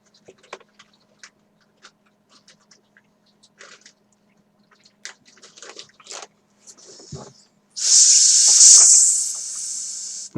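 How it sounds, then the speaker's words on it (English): Hissing snake noises: scattered faint clicks and ticks lead up to a loud, sustained breathy hiss near the end that rises sharply, then tapers but keeps going. "Snake noises."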